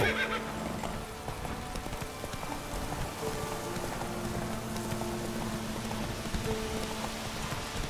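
Geralt's horse Roach gallops in The Witcher 3 on PC, with close, steady hoofbeats and a clear whinny amid a soft wash of rain.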